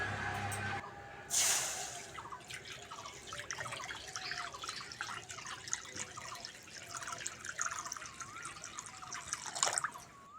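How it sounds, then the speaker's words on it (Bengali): Water pours and splashes into a wok for a Bengali pitha recipe, a soft continuous trickle and dribble heard fairly quietly with a brief louder splash near the start. "এখানে কড়ার মধ্যে আটশো গ্রাম জল দিয়ে দেবো"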